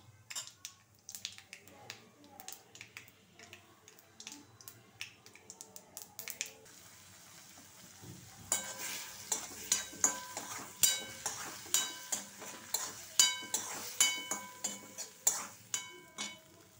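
Mustard seeds and spices for a tempering crackle and pop in a pan for beans curry. Scattered snaps come first, then a denser run of sharp, regular pops over a low sizzle, with occasional faint talk.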